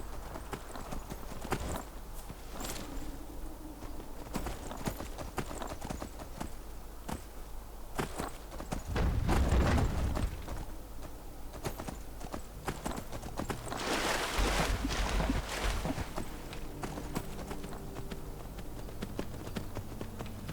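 Horse hooves clip-clop steadily while riding through a swamp in Skyrim, a continuous close trotting rhythm with brief louder rumbling swells, no speech over it.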